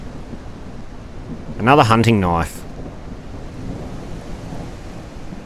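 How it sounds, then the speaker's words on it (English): A thunderstorm with rain in the zombie survival game Surroundead: a steady wash of rain and wind rumble with low thunder, and someone speaks briefly over it. "This is an intense storm."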